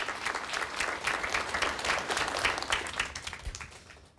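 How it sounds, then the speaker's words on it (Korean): A lecture audience gives a round of applause for the speaker at the end of a televised humanities talk; dense clapping swells, peaks midway, then tapers off toward the end. "다시 한번 큰 박수 보내주시기 바랍니다"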